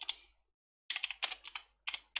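Quick, crisp keystrokes on a computer keyboard, a short burst, a brief pause, then several clustered runs of close, light clicking typing.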